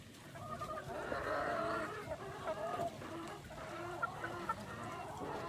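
Several chickens cluck and murmur nearby in a backyard chicken coop in a steady, overlapping chatter, with a few sharper calls standing out.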